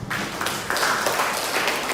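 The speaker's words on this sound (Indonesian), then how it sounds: "Kasih tepuk tangan yang meriah buat dia" A church congregation at a Sunday worship service breaks into dense, steady applause, loud and close, sustained throughout without a break.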